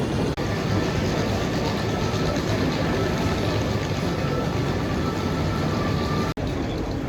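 An SNCF Inouï double-decker high-speed train at a station, a loud steady broadband rumble and hiss of the moving train, close and continuous with two brief dropouts.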